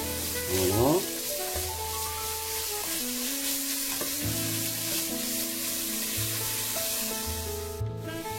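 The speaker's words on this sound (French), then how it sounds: "on les fait un petit peu revenir comme ça" Montbéliard sausages browning in a frying pan give off a steady, close sizzle and crackle that runs throughout, with a low tonal hum in the background.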